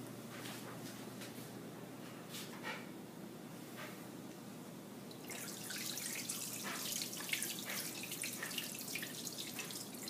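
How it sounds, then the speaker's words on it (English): Water streams from small holes in a spinning plastic bottle in a science demonstration of action and reaction, a soft trickle that swells into a louder, steady splashing hiss partway through. "As water escapes from the holes in the bottle will begin to spin."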